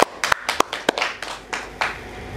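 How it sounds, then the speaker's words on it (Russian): Brief, scattered clapping from a small group, a handful of sharp claps followed by softer patters, fairly close and without voices. "Ну, аплодисменты."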